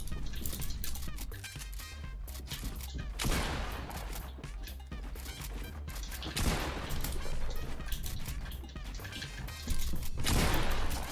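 Gunfire during a Fortnite 1v1 match: repeated bursts of close, loud shots with crashing impacts, spread across the whole stretch and intensifying near the end.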